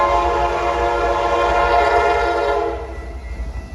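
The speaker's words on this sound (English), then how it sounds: "When I heard this horn from this train" A train horn blows loudly and continuously for nearly three seconds, a rich sustained multi-tone blast close by, then cuts off leaving the rumble of the passing train.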